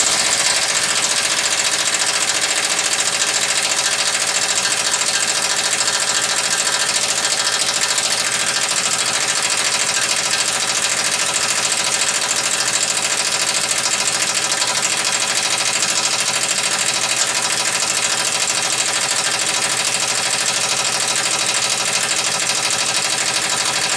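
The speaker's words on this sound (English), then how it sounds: "So let's plug in my Craftsman half inch. It already sounds like it's got more power." A Craftsman half-inch impact wrench loosens a bolt on a 1997 Dodge Dakota: a loud, steady, rapid hammering buzz runs unbroken close by for the whole stretch, with no talking.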